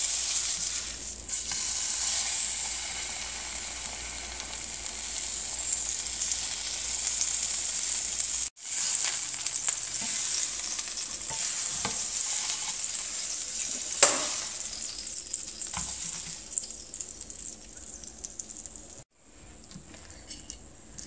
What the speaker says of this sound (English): I think that it fried the egg pretty well.